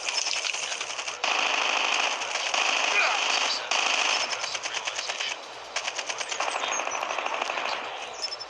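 Rapid automatic gunfire crackles in loud bursts during a video game battle, with short pauses between volleys and game voices calling out over the shooting.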